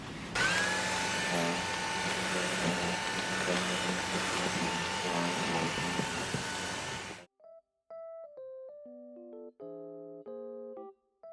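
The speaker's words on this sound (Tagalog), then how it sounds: "i-vacuum din natin to kasi maalikabok din" A steady, loud vacuum cleaner drone runs for about seven seconds cleaning a dusty bed, then cuts off, leaving a short melodic tune of synthesized tones.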